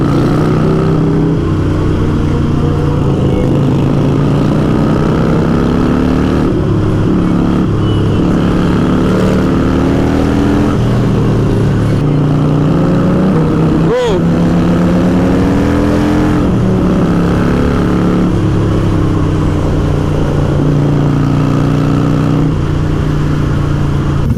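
A Porsche GT3 driving, a steady loud engine drone with rising and falling gear tones, heard close throughout with a brief sharp swoop midway.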